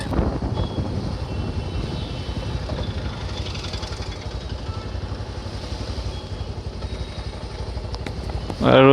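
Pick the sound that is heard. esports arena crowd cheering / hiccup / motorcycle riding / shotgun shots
motorcycle riding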